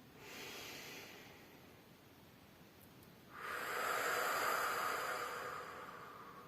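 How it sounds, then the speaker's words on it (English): A slow, deep breath at close range, first a quieter inhale and then a louder, longer airy exhale, with no talking. "we're gonna do 15 deep inhales and deep exhales"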